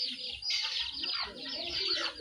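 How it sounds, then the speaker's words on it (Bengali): Young, partly grown chickens cluck and chatter steadily over a scratchy, noisy farmyard background, with no pauses in the calls. "আমার মুরগির বাচ্চাগুলো দেখতে দেখতে কিছুটা বড় হয়ে গেছে।"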